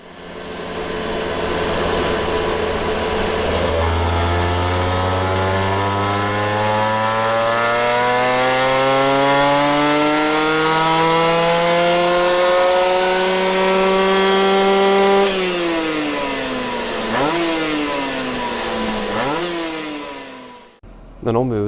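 Honda NSR 125 two-stroke engine with a lined cylinder, tested after its ignition advance was adjusted, revving loudly and climbing steadily in pitch, then dropping and blipped twice before it cuts out.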